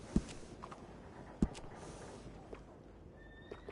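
A horse whinnies in Red Dead Redemption 2 during grooming, with a couple of sharp hoof thuds and a soft rising call near the end over faint ambient noise.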